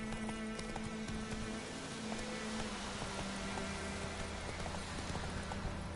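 Roach, Geralt's horse in The Witcher 3, clip-clops steadily on the ground through a constant wash of rain and game ambience, with hoofbeats running the whole way and no talking.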